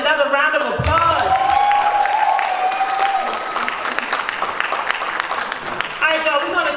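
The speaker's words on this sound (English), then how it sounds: "please give Miss Georgia another round of applause" Audience claps for Miss Georgia at a poetry event, a busy patter of applause running throughout while voices and an amplified speaker are heard over it near the start.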